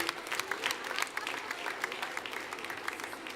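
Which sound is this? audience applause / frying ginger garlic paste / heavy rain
audience applause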